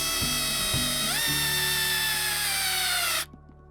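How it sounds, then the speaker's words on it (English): A Makita cordless drill drives a well nut into a kayak hull, whirring steadily after a couple of short stuttering starts, its pitch dropping slightly under load before cutting off abruptly into near silence. "I'm going to turn the clutch down to a 4 on this Makita drill"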